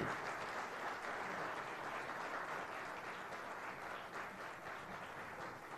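Audience applause welcoming a guest onto the stage at a Gujarati literary event, a steady, even wash of many hands clapping, fairly distant and soft, sustained throughout without speech.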